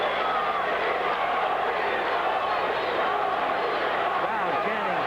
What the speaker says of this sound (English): Crowd chanting, Tony, Tony.